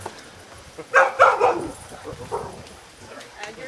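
An excited dog barks a few quick, close times in a seminar hall, then drops to whimpers against faint room noise.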